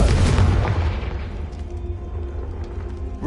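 The Confringo blasting spell going off in the Hogwarts Legacy video game: a single loud, deep boom at the start that rumbles and fades over a few seconds.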